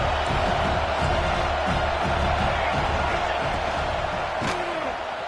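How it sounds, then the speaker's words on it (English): A large stadium crowd at an American football game roars continuously, a dense wash of cheering and noise with a few sharp bangs. "Listen to the crowd energy here in the early going."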